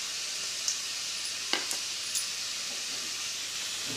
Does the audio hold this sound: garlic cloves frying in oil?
yes